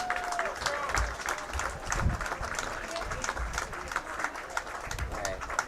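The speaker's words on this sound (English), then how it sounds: "We want a special round of applause again for our seniors." Crowd applause for seniors at an IHSA varsity high school football game between St. Patrick and St. Viator, a steady wash of many hands clapping in a large outdoor stadium.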